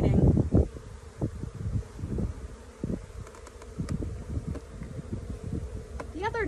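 Honey bees buzz steadily around an open hive during a spring inspection, a close, continuous hum with scattered bumps of handling noise and a voice speaking now and then.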